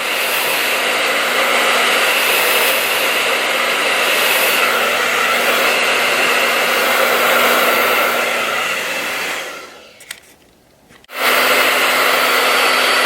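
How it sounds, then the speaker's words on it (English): A hair dryer blows warm air to dry lace gel, a loud, steady close whoosh that runs for about nine seconds, dips nearly to silence briefly, then resumes at full strength. "I'm using warm air to dry the gel."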